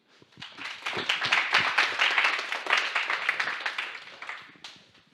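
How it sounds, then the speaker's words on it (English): A room of people applauding at a student competition semi-final, the clapping swelling quickly, holding steady and dense, then tapering off near the end. "a big round of applause to you"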